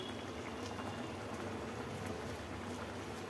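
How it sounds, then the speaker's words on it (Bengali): Creamy white sauce pasta bubbles steadily in a pan, a close, even, continuous boiling sound with no pauses. "এবারে পুরোপুরি পাস্তা সিদ্ধ হওয়া পর্যন্ত ফুটিয়ে নেব"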